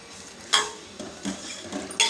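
Bitter gourd and cowpea curry with tamarind water is stirred in a pan, giving a few soft, close scraping strokes and light clinks spaced about half a second apart.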